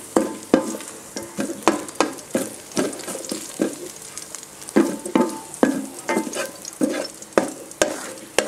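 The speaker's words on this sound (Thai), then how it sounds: "ต้องเจียวกระเทียมให้มีรัมนะคะให้กลิ่นหอมค่ะ" Garlic fries in oil with a crackling sizzle, and a utensil scrapes against the pan in a steady, repeated stirring rhythm roughly twice a second.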